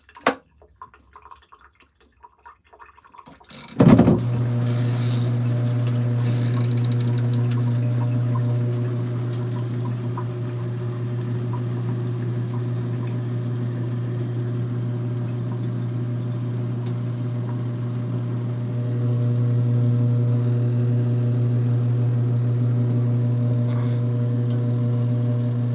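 An LG ThinQ MEGA Ultimate washer winds up into its final spin cycle with a cape inside, kicking in after a few seconds of quiet as a loud, steady mechanical hum with strong low tones that holds and rises slightly toward the end.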